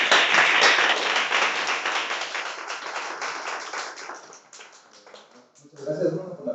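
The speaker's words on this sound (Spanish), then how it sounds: "Un aplauso." Audience applause and clapping at a mathematics talk, a dense burst of many hands that fades over several seconds before a voice begins speaking near the end.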